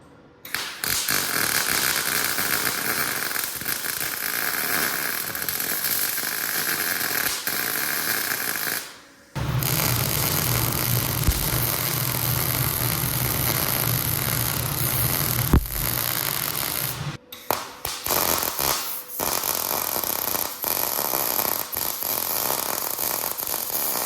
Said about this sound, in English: I think I have most of the welding done to this dirt bike frame